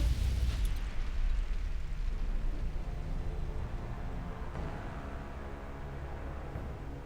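Grenade explosion in the Fallout New Vegas video game, a loud deep boom at the start that fades into a long, low rumbling tail.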